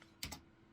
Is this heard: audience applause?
no